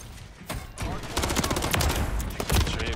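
Rapid gunfire in the ranked play mode of the video game Modern Warfare 3, with dense, overlapping bursts of shots that grow louder and nearer over a few seconds while a player talks.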